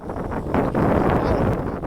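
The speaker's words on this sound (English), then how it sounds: "it's windy" Steady, blustery wind buffeting the microphone in the mountains of Jordan, a dense low rumble that swells and holds throughout.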